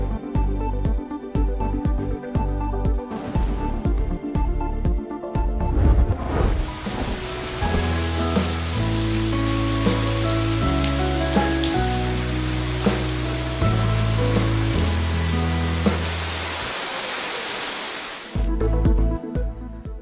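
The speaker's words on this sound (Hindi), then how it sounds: "इस्लामाबाद और रावलपिंडी के मुख्तलिफ इलाकों में मूसलाधार बारिश।" Torrential rain pours across parts of Islamabad and Rawalpindi in a dense, steady roar, with a few sharper splashes and bursts standing out near the start and end.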